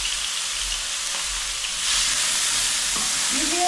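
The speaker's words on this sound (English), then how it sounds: "That's the sound of cooking." Onions, ginger and garlic frying in hot oil in a pot for chicken curry, a steady close sizzle that swells louder partway through, with no voices.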